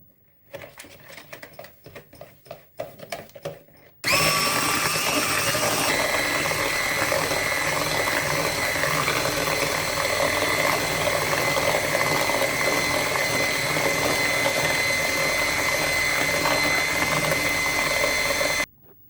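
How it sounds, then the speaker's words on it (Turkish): Eggs and sugar beaten for a revani cake batter with an electric mixer, a loud continuous motor whir and rattling beaters that start abruptly after a few seconds of faint clatter, then cut off at the end. "İlk olarak yumurtalarımı kırdım. Şekerimi ilave ettim. Şimdi güzelce çırpacağım."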